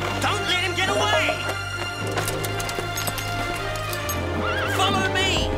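A horse whinnies loudly over the fast drumming of galloping hooves in an outdoor chase, with music and shouting voices mixed in throughout.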